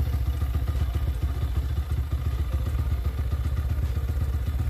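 A YCF Bigy 150 pit bike engine idles just after a kick start, following a valve adjustment, with a steady close-up rapid thumping putter and light mechanical clatter, no voices.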